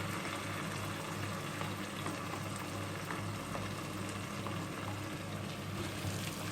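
Eggs frying in a pan for an egg and potato bhurji masala give a steady, dense sizzle that holds evenly close up throughout, with no talk.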